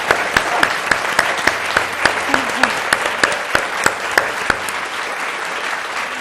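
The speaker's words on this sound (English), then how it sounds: "Big applause for Douglas." Applause from the audience at a library author talk, a dense run of hand claps with a few sharp, close claps standing out, steady for about six seconds.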